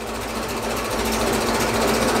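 An old classic car engine, gravity-fed from the tank to the carburettor, idles steadily after a long lay-up, a continuous close mechanical chatter holding an even pitch throughout with no talking.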